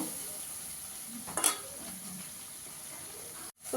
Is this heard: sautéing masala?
yes